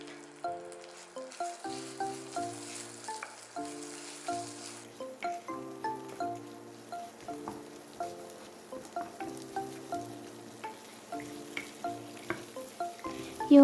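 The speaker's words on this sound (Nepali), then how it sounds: "अब यसमा अदुवा लसुनको पेस्ट र प्याज हालेर यिनीहरुलाई पनि एकैछिन राम्ररी मिक्स गरेर फ्राई गर्ने।" Ginger garlic paste and onion frying and being stirred in a pan while making butter paneer, a steady sizzle under rhythmic background music throughout.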